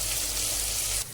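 Tomatoes frying in a spiced oil tempering over a low flame, giving a loud, steady, close-up sizzle that fills the moment and cuts off abruptly near the end, with no voices.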